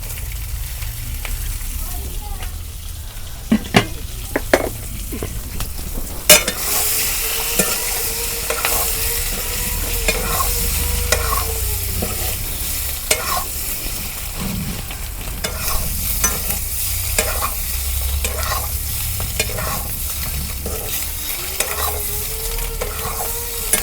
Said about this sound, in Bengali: তেল গরম হচ্ছে। ডিমের হাতে কাঁচামরিচ ভাইজা নেব।